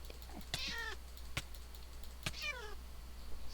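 Cat meows in Minecraft from a witch's pet cat: two clear, drawn-out meows with a sharp click between them, over a steady low hum and faint game background.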